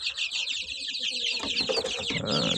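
A flock of backyard chickens with young chicks, moved near a homemade feeder during a cold snowy spell, cluck and peep in a busy, continuous chatter of high chirps over lower clucks.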